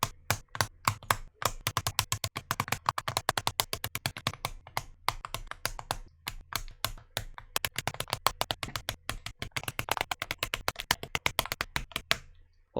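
Z1M1 linear switches are pressed one by one into a MONKA 6075 Pro keyboard, a long, rapid series of crisp, close clicks and snaps with brief pauses.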